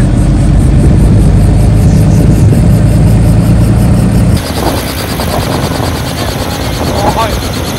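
A loud, continuous helicopter engine roar dominates, abruptly shifting to a different whining, buzzing tone partway through.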